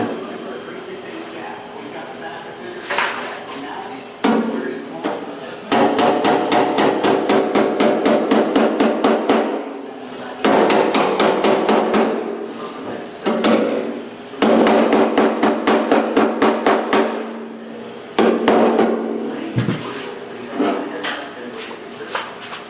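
Repeated metal hammering with a high-crown hammer on a metal panel, in loud rapid bursts of sharp, ringing strikes separated by short pauses, close by.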